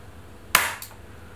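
A WE CT-25 airsoft Colt Junior gas pistol powered by green gas fires a single close, sharp shot, a crack with a brief slide clack right after, then quiet.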